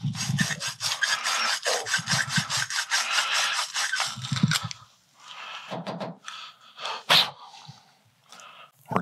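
Rapid back-and-forth scraping of a half-inch plumbing brush inside a golf club shaft, steady at first, then slower irregular scrubs with brief pauses, close and fairly loud.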